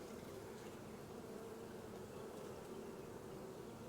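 Honeybees drone steadily at an open hive, a continuous close buzz of many insects with no other sounds.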